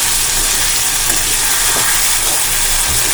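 Water poured into a pan of frying button mushroom masala, a loud, continuous hiss and sizzle filling the whole stretch with steady steam and crackle, close and even.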